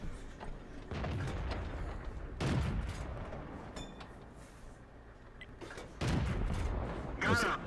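Cannon and gun blasts in World of Tanks, booming shots at intervals over a steady battlefield rumble, with a few sharp metallic effects in between.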